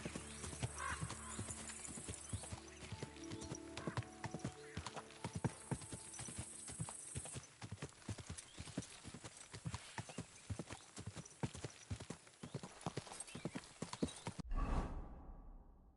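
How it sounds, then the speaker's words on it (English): A mare in the video game Kingdom Come: Deliverance 2 trots along with a steady, brisk clip-clop of hooves. A brief whinny comes early on, and a whoosh cuts in at the end. "She is a girl horse."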